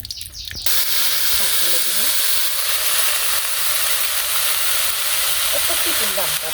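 Mustard oil hits a hot pan and breaks into a loud, steady sizzle in a village kitchen, a brief clatter first, then continuous hiss with a voice speaking faintly underneath.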